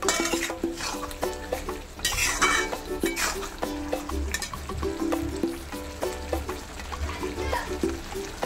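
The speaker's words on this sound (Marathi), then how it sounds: "चांगलं परतून घ्यायचं मसाल्यामध्ये." Chicken being stirred and sautéed in masala in a pot: repeated scraping and clinking of a spoon against metal, with a sizzling hiss and a musical backing underneath.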